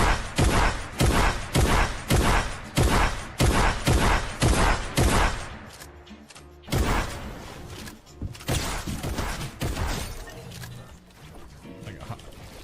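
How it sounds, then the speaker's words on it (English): A combat shotgun in Fortnite fires loud, close, evenly spaced blasts about twice a second, followed by a denser stretch of mixed gunfire and impacts. "Take a look at how far away the combat shotgun can deal damage."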